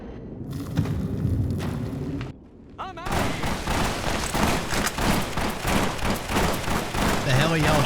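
Gunfire in Fallout: New Vegas, a brief burst followed by a short lull, then dense overlapping shots and booms from a firefight that rattle on steadily for several seconds.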